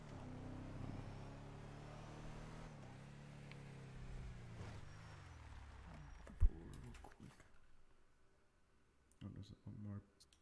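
A car engine in a video game revs with a rising, straining pitch that builds and falls for several seconds, then a sharp bang and a few quieter bursts follow.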